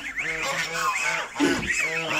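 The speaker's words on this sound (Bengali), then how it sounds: "আপনারা দেখতে পাচ্ছেন যে আমার রাজহাঁসগুলো আসলে কতটা ক্ষুধার্ত" Hungry domestic geese honking close by, several overlapping nasal honks in quick succession filling the whole stretch, loud and unbroken.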